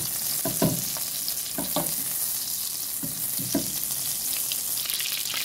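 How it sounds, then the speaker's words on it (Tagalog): Butter melts in a pan with a continuous close sizzle and occasional utensil taps and scrapes against the pan. "Ayan, tunawin lang natin ang butter."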